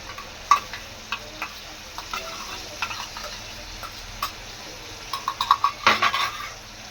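Fresh wet cashews tossed into frying masala in a pan for a Kokani-style cashew curry, with a soft steady sizzle under sharp spoon scrapes and clicks against the pan, getting busier toward the end.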